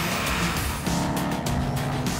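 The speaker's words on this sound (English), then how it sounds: "This is a diesel truck. It's a deep note" Diesel truck with a MagnaFlow exhaust, its deep engine note rumbling close and loud, with a shift in pitch partway through as the revs change, continuous with no talking.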